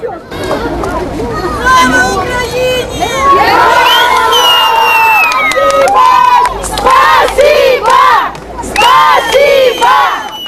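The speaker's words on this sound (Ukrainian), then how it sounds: "Юрія Бірюкова, більш відомого як Фенікс, натовп зустрічає як справжнього народного героя." A large outdoor crowd greeting a volunteer roars and cheers continuously, with loud shouts and whoops rising in waves over a dense wash of voices.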